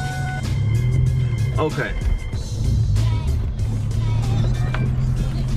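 V8 engine of a Cobra with a manual transmission idling in a deep, steady low rumble, heard from inside the car beneath a driver's talking, with small clicks and rustles in the cabin.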